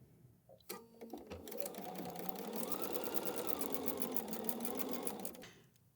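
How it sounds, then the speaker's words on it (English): A sewing machine stitches fabric pieces for a wall hanging, starting with a few short bursts and then running in a long, steady, close whir before slowing to a stop. "so let's go sew that."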